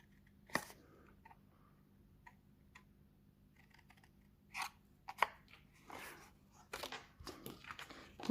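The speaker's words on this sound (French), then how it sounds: "On va couper ce petit carré là." Scissors snipping a small paper square during a scrapbooking craft, a few quiet, close crisp cuts spaced unevenly over a faint background, with no talk.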